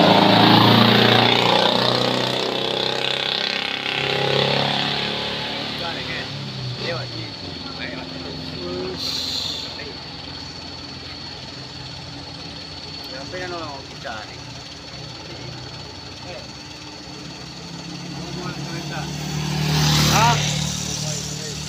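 Colt Diesel truck engine revs as it accelerates, rising and falling in loud surges over road noise, with a voice speaking over it.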